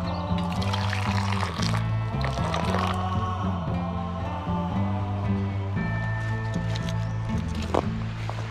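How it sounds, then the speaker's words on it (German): Water refilling a bottle on a spring hiking trail along the E6 long-distance route in Sweden, a gurgling pour with bubbling and trickling that rises in pitch as the container fills, close and continuous. "Da wird nochmal unser Wasser nachgefüllt."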